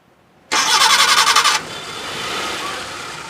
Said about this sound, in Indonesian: sekarang kita langsung aja kita nyalain mesinnya, kita starter, kita dengerin suaranya gitu